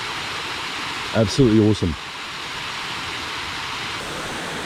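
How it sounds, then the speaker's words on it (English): A waterfall roars steadily as a broad, constant rush of falling water throughout, with a person briefly speaking over it near the start. "This is probably the best waterfall we've been to, and the easiest one to get to as well."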